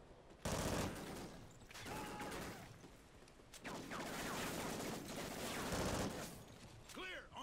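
Submachine gun fire in the Call of Duty: Ghosts campaign, loud rapid bursts and sustained volleys with brief gaps, mixed with game effects and a voice talking.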